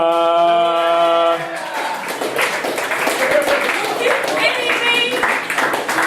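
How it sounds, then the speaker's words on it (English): Roast-show audience applauding and cheering as two performers are welcomed, a dense wash of clapping that rises after an opening musical tone and carries on to the end, with voices mixed in. "Everyone, I need a round of applause for Micah and Mara"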